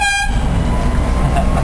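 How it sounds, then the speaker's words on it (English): A short, loud horn blast from a large vehicle cuts off after a moment, leaving a heavy rumbling engine close by. "Air horn, eh?"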